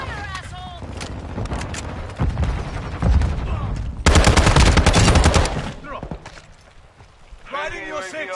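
Modern Warfare 2 gunfire: rapid automatic bursts and single shots crackle loudly, peaking in a dense volley midway, mixed with game effects, while voices talk over part of it.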